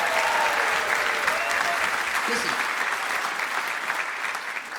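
A stand-up comedy audience breaks into loud, sustained applause, dense clapping that fills the room and slowly tapers while the comedian starts speaking over it.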